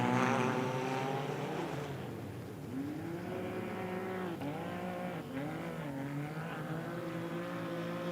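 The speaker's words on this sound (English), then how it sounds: "So another of the Taurus cars just coming to the finish there" A Taurus rally raid car draws in to a stage finish in Portugal, its engine note rising and falling through gear changes as it nears, loud and continuous over eight seconds with no voices.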